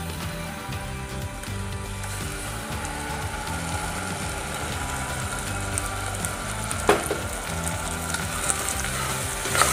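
Ground tomato paste sizzles in a pan with golden fried onions, a steady close crackle and hiss of frying with occasional stirring scrapes, no talking.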